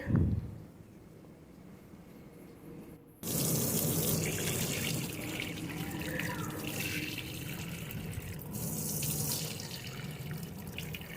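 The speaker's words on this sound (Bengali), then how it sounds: "চলে এলাম ট্যাপ ছেড়ে জলটা বের করে নিলাম।" Water gushes from an opened household tap to flush the pipe, a steady, loud rushing splash that starts abruptly after a brief knock and continues close by without a break.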